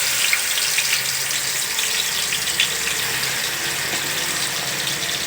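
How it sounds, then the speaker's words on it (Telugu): Pieces of fish dropped into plenty of hot oil for a fish curry, giving a steady, dense, close sizzle and crackle that holds evenly throughout with no voices. "కాగి బాగా మగ్గిన తర్వాత ఈ ఫిష్ ముక్కలను వేసుకోవాలి."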